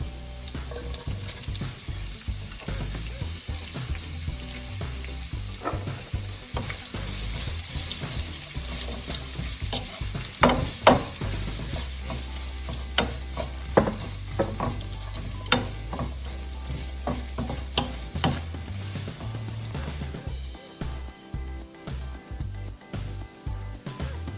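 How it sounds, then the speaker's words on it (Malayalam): Sliced onions with a pinch of salt sautéing in a pan for egg roast, giving a continuous sizzle with frequent spatula scrapes and knocks. Water briefly runs from a tap, and the sizzle thins toward the end. "ശകലം ഉപ്പ് ഈ ഉള്ളിയിലേക്ക് ആഡ് ചെയ്ത് കൊടുക്കുകയാണ്. പെട്ടെന്ന് ഇങ്ങനെ വഴണ്ട് കിട്ടും."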